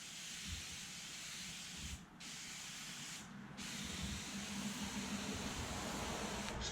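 Foaming glass cleaner sprayed from a can across a car windshield, a steady close hiss with two brief pauses, the second spray running continuously to the end with no voices.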